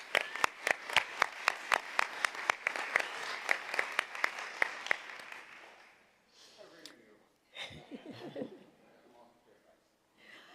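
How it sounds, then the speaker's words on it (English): Audience applause at a school board meeting: a room of people clapping steadily and fairly close for about five seconds, then tapering off into scattered murmurs, shuffling and brief voices. "Let's give her one more round of applause."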